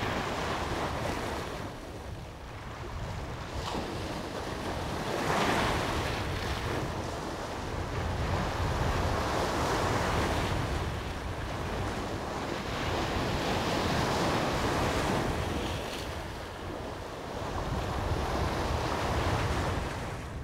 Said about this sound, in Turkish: Dalgalar vuruyordu kıyıya